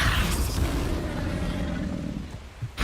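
A deep booming burst from the Confringo blasting spell in the video game Hogwarts Legacy rumbles loud and close, then decays over a couple of seconds.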